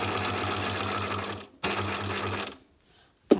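A sewing machine stitches in a fast steady whir of needle strokes, stopping briefly, running again, then falling quiet, close by.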